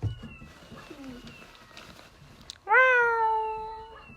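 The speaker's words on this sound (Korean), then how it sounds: "고양이 소리나?" After a quiet stretch of faint rustling, a cat gives one loud, drawn-out meow close by.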